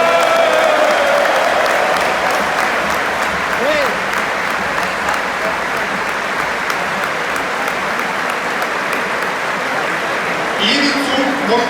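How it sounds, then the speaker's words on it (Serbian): Sustained roaring applause from a large stadium crowd at a football team tribute, loud and continuous throughout with crowd noise, brief voices over the top. "Zato pozdravite gromoglasnim aplauzom Željka Kaluđerovića."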